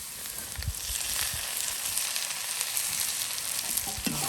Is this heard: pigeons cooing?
no